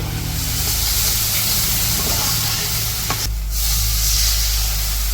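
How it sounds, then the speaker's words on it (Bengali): Onion and green chili fry with turmeric and chili powder in a pan, giving a loud, dense, unbroken sizzle and hiss close by, with a low hum underneath. "এদিকে পেঁয়াজ কাঁচামরিচ একটু ভাজা হয়েছে এখন হচ্ছে হলুদের গুঁড়ো আর মরিচের গুঁড়ো দিয়ে দিল"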